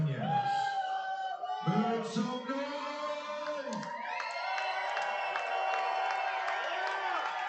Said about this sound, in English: Crowd gets them with their feet, making some noise, trying to root on their home team